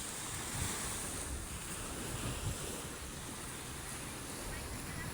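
Sea waves wash steadily onto Boracay beach in the early morning, a continuous broadband surf wash with some wind noise on the microphone, moderately loud and without pause across the whole stretch.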